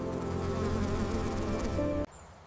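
Close, steady insect buzzing of a mud dauber wasp, loud and continuous for about two seconds before cutting off abruptly.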